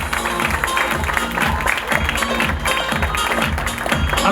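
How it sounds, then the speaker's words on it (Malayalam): An audience at a pooja and switch-on ceremony for the Malayalam film Avarachan and Sons breaks into steady, dense clapping that holds strong throughout, with some voices mixed in. "ഒരു കൈയടി കൊടുത്തുകൊണ്ട് നമുക്ക് ഏറ്റുവാങ്ങാം."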